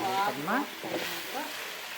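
A paste for fish curry sizzles in a pan with a soft, steady hiss while a person talks over it.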